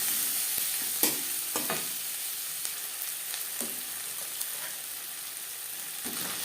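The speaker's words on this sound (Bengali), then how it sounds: "পেঁয়াজ ভাজা হয়ে গেছে" Onions sizzle steadily in a pan with salt, a steady frying hiss broken by several sharp scrapes and clinks of a spatula stirring them.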